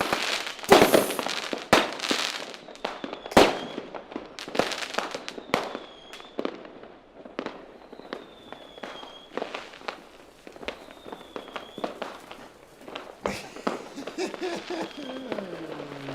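Festive fireworks and firecrackers going off in a long series of sharp bangs and crackles, some near and loud, others farther off, with whistling rockets rising between bursts.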